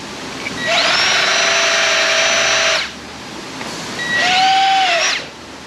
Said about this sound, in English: Can't put them on the little impact drivers. They've got to go on the drill.